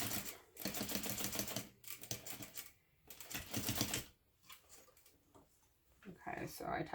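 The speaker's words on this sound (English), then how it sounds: "Okay, so I top stitch down the first side." A sewing machine top stitches a bag, making a rapid mechanical rattle in several bursts of varying length separated by brief pauses, fairly close and loud, with a voice talking over part of it.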